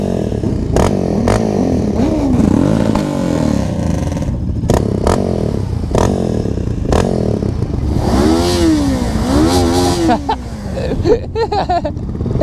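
A Suzuki GS500 motorcycle races against a 700cc quad, its engine revving and accelerating through rising and falling sweeps, loud and close, with clattering and scraping bursts amid the roar.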